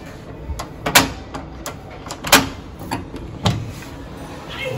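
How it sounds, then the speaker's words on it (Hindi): A home door is opened with several sharp clicks and knocks of the latch and handle, spaced irregularly against a quiet room background. "पहले से ही दरवाज़ा खोल देती हूँ"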